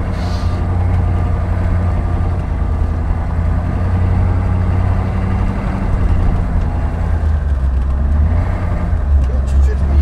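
A Hummer H1 rolls slowly off-road across desert terrain, its engine giving a steady low rumble with people talking over it inside the cabin.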